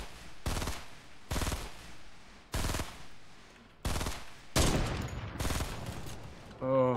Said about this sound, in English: Shoot at that wall.